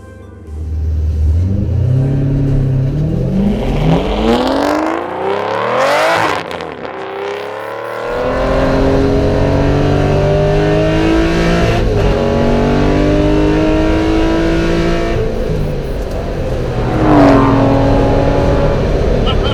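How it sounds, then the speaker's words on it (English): A racing Aston Martin driven through town near the Nürburgring, its engine loud and close from inside the car, revving and shifting through gears with rising and falling pitch throughout, with brief talk in places. "Through town in a racing car."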